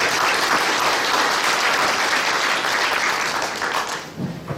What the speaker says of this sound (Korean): 참석자 일동 모두 박수로 받아주시면 감사하겠습니다